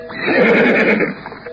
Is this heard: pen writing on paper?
no